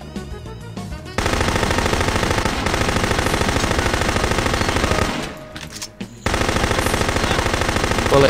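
Automatic gunfire in the video game No One Lives Forever 2 rattles in long, loud, sustained bursts, with a brief pause partway through before the firing resumes.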